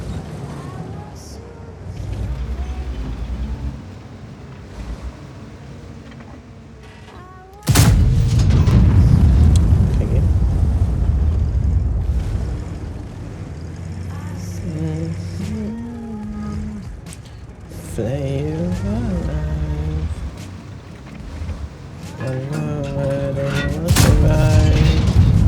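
Heavy booming tank cannon fire in World of Tanks, one sharp loud blast followed by rumbling engine noise and later further thuds, with someone talking over parts of it.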